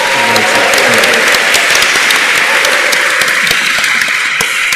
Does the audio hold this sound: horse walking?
no